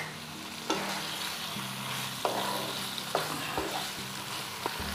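Slit green chillies fry in a little oil for a pointed gourd and poppy seed curry, a faint, steady sizzle broken by a few sharp scrapes of stirring; no one speaks.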